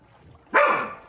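A single sharp dog bark from the video game Minecraft, loud and close, rising abruptly and trailing off over about half a second.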